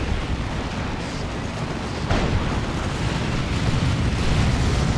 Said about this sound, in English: Orbital Bombardment over there.